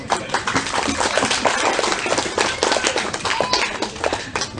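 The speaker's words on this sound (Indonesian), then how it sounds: "ditambah dengan tepuk tangan yang meriah" An audience at an Islamic lecture held at PT Karsa Buana Lestari claps loudly and steadily, a dense crowd sound that stays constant for several seconds without a break.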